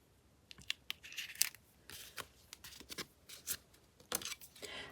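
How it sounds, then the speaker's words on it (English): Scissors snip through paper, cutting out a flower for journal ephemera in a quiet room, with a rapid series of close, crisp cuts and light paper rustling. "I'm cutting that flower"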